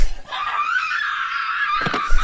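A woman screams in a played movie scene, one sustained, loud, high-pitched shriek lasting about two seconds, then a short breathy gasp.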